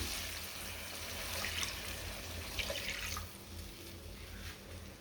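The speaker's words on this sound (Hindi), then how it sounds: "पानी डाल रही हूँ।" Water poured into a pan while making dahi bhindi gravy, a steady splashing, trickling stream running continuously for several seconds, fairly close, with no talking.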